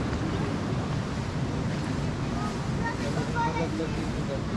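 Waterfall at Plitvice, Croatia, pouring as a dense, steady broadband rush of falling water, fairly faint and even throughout, with people talking over it.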